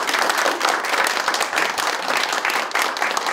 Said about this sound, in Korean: 박남춘 최고위원에게 뜨거운 박수 한번 보내주십시오